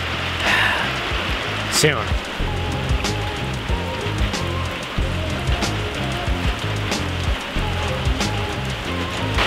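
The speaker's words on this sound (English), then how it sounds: "The rain is really coming down now, fast and furious." Heavy rain pours down in a dense, steady hiss with scattered louder drips and splashes, while someone speaks briefly over it.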